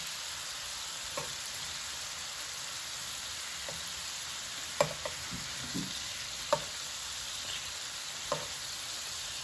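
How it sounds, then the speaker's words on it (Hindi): Prawns fry in oil in a pan with a steady, dense sizzle, broken by a few sharp clicks and taps from turning them. No voices. "हमने इसको दोनों साइड से अच्छे से तेल में फ्राई कर दिया है"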